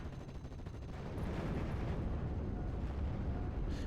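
Artillery bombardment in the Steel Division: Normandy 44 video game rumbles as a continuous barrage of low, overlapping explosions and blasts, growing heavier after the first second and staying dense throughout.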